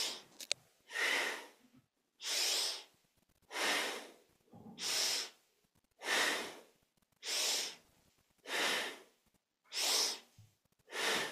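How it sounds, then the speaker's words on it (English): Rhythmic kundalini yoga breathing: a steady series of about ten strong, airy breaths roughly one second apart, each separated by brief silence, heard up close with no talking. "Inhaling up, exhaling down."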